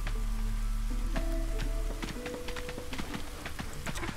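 Drizzle in the video game Against the Storm, a steady soft patter of rain with scattered drops and small clicks, game tones ringing over it.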